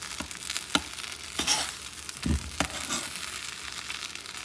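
A spoon stirs arroz con pollo in a pot with the broth cooked down, giving soft scraping strokes at an irregular rhythm over a low sizzle, close and fairly quiet, no voices.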